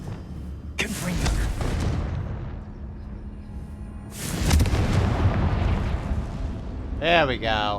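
A Confringo fire spell in Hogwarts Legacy bursts twice as loud, rumbling blasts, each decaying over a few seconds, with someone talking in between and over the end.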